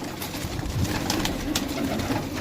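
Pigeons coo softly and repeatedly at close range, low rounded calls rising over a steady hiss of background noise, with no voices present.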